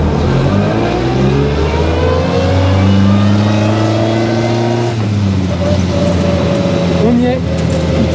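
A Peugeot 206 engine, rebuilt after two years of preparation, revs up loudly from inside the car, pitch climbing steadily, briefly dropping at a gear change, then rising again as people talk over it.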